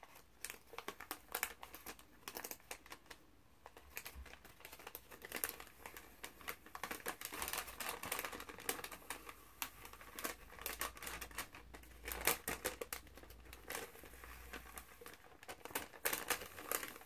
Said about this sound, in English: So we're going to open our second piece of contact paper, make a little tear by stretching it.